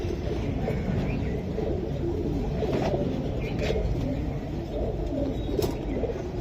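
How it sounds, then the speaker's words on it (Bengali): A silver chorui pigeon coos softly and repeatedly at close range, the low, rolling calls sitting over a steady background hiss. "এটা সিলভার চড়ুই কবুতর।"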